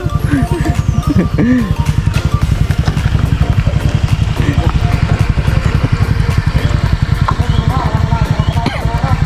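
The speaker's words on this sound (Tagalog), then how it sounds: "patatalunin yung kanyang motor" A motorcycle engine revs steadily throughout at a Philippine village fiesta exhibition, loud and close, with sharp crackling pops and a crowd murmuring faintly in the background.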